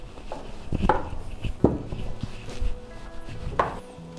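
A knife cuts rolled-out dough into strips, giving a few sharp, separate chops on a board with pauses between them, close and fairly clear.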